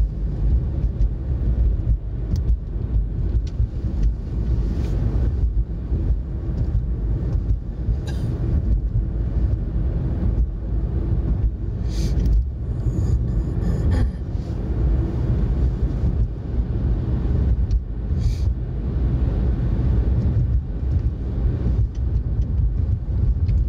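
Car driving along a road at about 60 km/h, a continuous low road and engine rumble with wind buffeting, loud and steady throughout, no talk.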